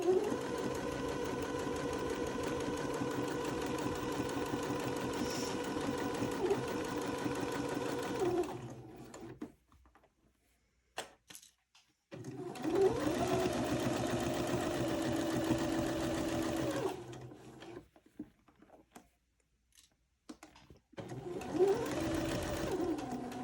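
A sewing machine stitches a curve through corduroy and broadcloth lining in three long runs of steady whirring, the motor speed rising and falling, separated by quiet pauses with small handling clicks.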